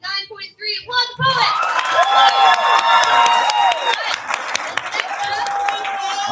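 A crowd at a youth slam poetry competition bout applauds and cheers a poet, steady clapping rising and sustained with whoops over a brief opening of voices.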